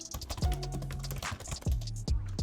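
Rapid clattering keystrokes on a computer keyboard, close and fairly loud, in uneven bursts with short pauses, no talking.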